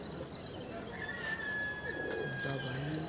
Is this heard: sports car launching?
no